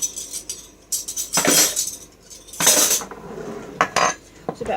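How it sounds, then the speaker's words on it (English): A metal tablespoon is rummaged out from among cutlery in a kitchen, bright clinks and rattling jangles in a few close bursts separated by quieter handling. "we'll just get a new tablespoon."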